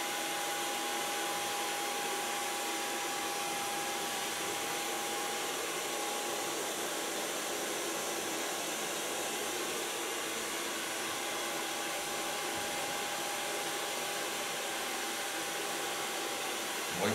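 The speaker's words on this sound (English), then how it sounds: "Now take a blow dryer." A salon blow dryer runs continuously for a long stretch while hair is gently dried with a large brush, producing a steady, close, even airy roar with a faint constant whine and no voices.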